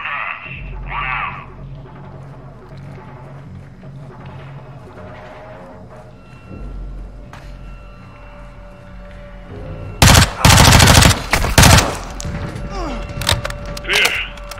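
Modern Warfare 2 campaign gunfire, loud sharp bursts of shots clustered near the end after a stretch of low rumbling ambience and quiet voices.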